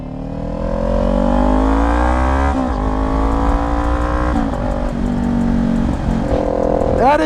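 A motorcycle fitted with an LV-10 aftermarket exhaust revs hard and loud up close, its engine note climbing steadily and then dropping back before rising again while the bike rides.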